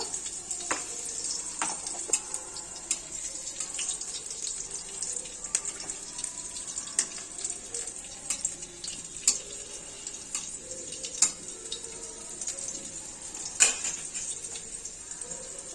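Black cumin dropped into hot oil with slit green chillies for a fried beto greens dish, giving a faint, thin sizzle broken by scattered sharp pops and crackles at irregular intervals.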